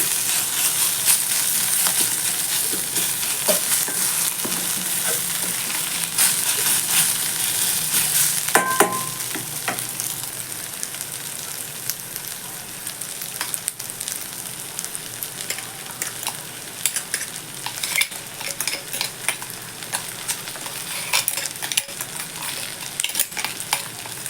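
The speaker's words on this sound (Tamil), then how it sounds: "நம்மளோட கத்திரிக்காய் பார்த்திங்கன்னா நல்லா ஃப்ரை ஆகிட்டே இருக்குது" Brinjal (eggplant) pieces fry in a pan while being stirred, giving a continuous sizzle punctuated by scraping stirring strokes, close and moderately loud, with no talking.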